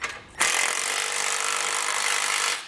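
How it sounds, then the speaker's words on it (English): A 19 mm socket on a power driver snugs down the bolts of a Demco tabless base plate on a 2018 Jeep JK Wrangler Unlimited, giving one steady, loud whirring run of about two seconds after a brief quieter start. "come back with our socket. I'm using a 19, you can also use a 3/4, and we'll snug it down."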